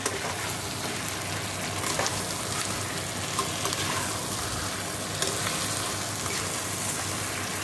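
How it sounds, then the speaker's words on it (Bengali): Chicken fries with spice paste in a pan, giving a loud, dense, steady sizzle with faint stirring scrapes and no talk. "দেখো চিকেনটা দিয়ে ভালো করে কষিয়ে নিচ্ছি"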